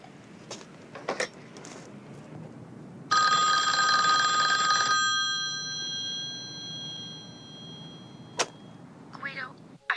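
A telephone bell rings once in a steady, loud two-second burst, with faint background noise and brief clicks before and after, in a 1970s Western comedy jail scene where a prisoner makes his one phone call.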